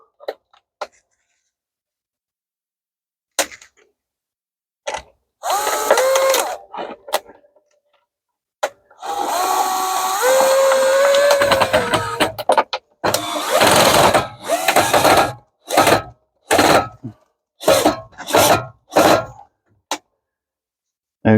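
A power drill whirs up and down in short bursts nearby, rising in pitch under load while fixing planters side by side onto a rail for a vertical garden, with brief pauses between runs.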